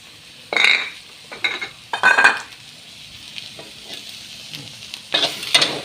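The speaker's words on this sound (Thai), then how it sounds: "ผัดกุ้งจ่อม" Fermented shrimp being stir-fried in a pan for a northeastern Thai dish, giving bursts of sizzling and stirring with light clinks of a utensil against the pan, close and loud in short repeated strokes.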